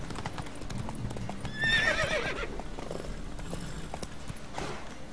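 A horse in The Witcher 3 video game gives a loud, shrill neigh over the steady clip-clop of hooves, with faint background game ambience around it.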